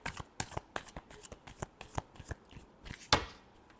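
Tarot cards being shuffled by hand, a quiet run of soft, evenly spaced riffling snaps with one sharper, louder slap near the end, with no voices over them.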